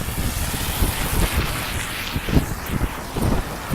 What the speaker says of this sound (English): It's actually raining, so I don't fucking care if I get wet as fuck.